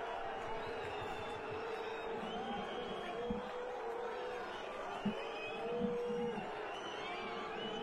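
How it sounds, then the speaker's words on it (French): The home crowd at a Belgian football match between K. Lierse S.K. and Royal Olympic Charleroi lets out sustained, wavering boos, distant and fairly faint, with a couple of dull thuds in the mix. "Et le public local qui commence à pousser des huées, comme vous pouvez l'entendre."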